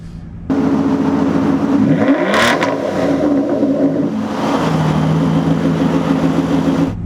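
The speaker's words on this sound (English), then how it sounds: "Let's go ahead and give it a couple revs here." The V12 engine of a 2017 Aston Martin Vantage S Coupe, already warmed up, revs sharply from idle in a loud rising and falling blip, then settles back to a deep, steady idle.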